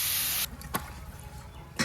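Banana flower hits hot frying spiced masala in a pan, giving a loud sharp hiss that cuts off abruptly, followed by quieter crackling, a brief splash of noise, and another burst of sizzle at the end.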